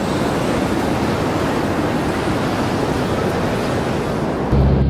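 Hurricane storm surge water spreads across an island in a steady, dense roar of rushing water and wind noise. The sound stays loud and unbroken, with no voices.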